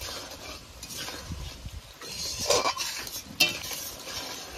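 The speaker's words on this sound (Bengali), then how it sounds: "এবার একটু নেড়ে চেড়ে নেব।" Poppy seed paste is stirred in a pan for a country-chicken egg posto, giving soft scraping and stirring with a couple of sharper utensil clinks against the pan, close and fairly quiet.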